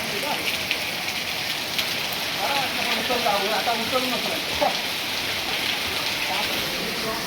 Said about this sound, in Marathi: फुल जोरजोरात पाऊस आहे